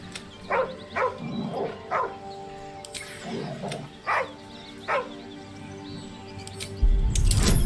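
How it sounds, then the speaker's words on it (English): A dog in the video game Baldur's Gate 3 whimpers nervously in a string of short, evenly spaced whines over a low ambient game soundscape, ending with a burst of broadband noise. "The dog whimpers nervously, as if to urge you on."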